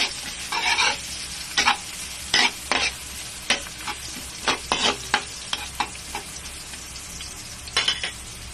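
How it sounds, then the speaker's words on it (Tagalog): Garlic sautés in a pan, a soft steady sizzle broken by frequent quick scraping strokes of a spoon or spatula stirring it, close and clear with no talk. "So, ilalagay na yung bawang. Halo ulit."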